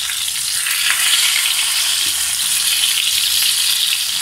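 Toffee fish fries loudly in a pan, a dense continuous hiss with faint stirring movement underneath, close and steady with no one talking.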